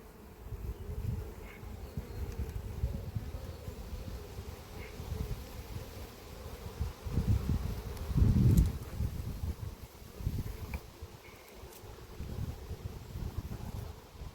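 Honey bees buzzing around an opened beehive in an apiary, a dense low drone from many insects that swells when some pass close to the microphone, with light wind noise and no talking.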